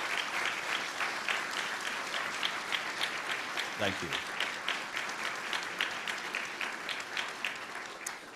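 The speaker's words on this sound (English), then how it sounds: "Can you please make them feel welcome with a round of applause and appreciation" Audience at a press club journalism awards ceremony applauding to welcome guests, steady rhythmic clapping throughout with a brief spoken thanks partway through.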